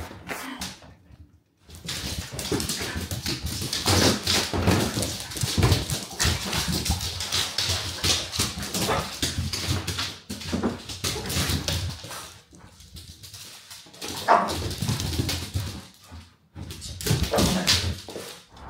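A dog whimpering and whining outdoors at night, a steady stream of high, thin cries close by, broken by brief pauses, with some background noise.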